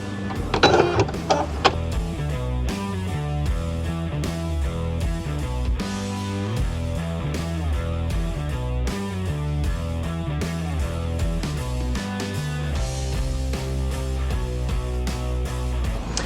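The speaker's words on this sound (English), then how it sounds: "I'm gonna pop my hoop in. It's gonna stitch right on that stabilizer." An embroidery machine stitches green lace onto stabilizer with a steady, rapid mechanical chatter and whirring motor, running continuously and close with slight shifts in rhythm as the needle moves across the hoop.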